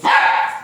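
A single dog bark, short and fairly loud, ringing briefly before fading.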